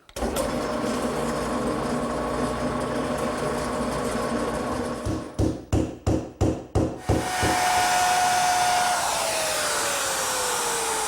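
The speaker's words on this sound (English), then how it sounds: "Now I'm ready to drill the holes for those pivot dowels. I'm using a 1/2-inch bit" A power drill with a 1/2-inch bit bores dowel holes in a tilt-top table piece, giving a loud, steady motor whine. It surges through several short rhythmic pulses midway, then settles into a falling whir as it spins down.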